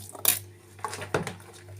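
Dishes are gathered up and stacked after a Quran recitation gathering at home: a few sharp clinks and clatters of plates and cutlery, brief and moderately close, with quiet gaps between.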